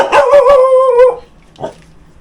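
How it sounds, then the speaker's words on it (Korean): Jindo dogs give a loud, close, drawn-out howling bark lasting about a second, followed by one short sharp yelp. "금자만 짖지 않고 성경 나머지 강아지 세 마리는 기억을 못합니다"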